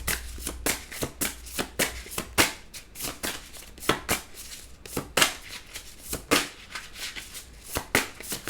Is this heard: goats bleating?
no